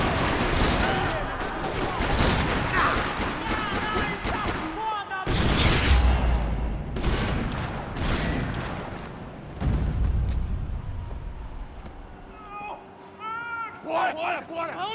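Gunfire in a parking lot in the Max Payne 3 video game, bursts of rapid shots and booms mixed with shouting voices and game dialogue throughout, dropping quieter toward the end.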